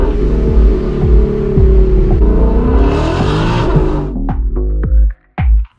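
A supercharged Mustang GT engine roars as it accelerates hard through the gears, rising in pitch, followed by sharp revving bursts and sudden cutoffs, very loud and close.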